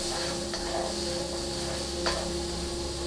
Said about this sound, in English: garlic hitting hot oil or butter is one of the best things in the world